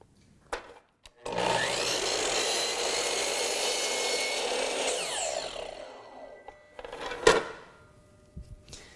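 A miter saw rips a wooden board for a small jewelry box, a loud steady cutting roar lasting about four seconds, framed by brief clunks of handling before and after.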